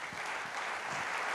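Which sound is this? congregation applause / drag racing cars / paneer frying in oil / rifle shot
congregation applause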